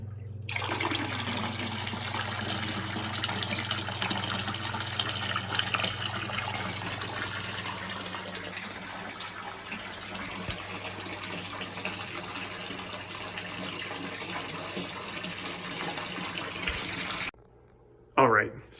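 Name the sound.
water pump filling a DIY bucket turtle filter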